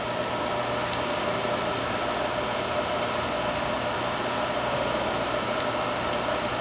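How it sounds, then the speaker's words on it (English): Pump motor on a New Brunswick Scientific Bio Flo 4500 fermentor running with a steady, even mechanical hum and fan-like whir, constant and close with no clear start or change. "now you can see pump number 2 is turning"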